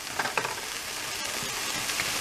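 Vegetables for chicken stir-fry noodles sizzle loudly and steadily in a hot pan as oyster sauce goes in, a dense close hiss with a few faint scrapes.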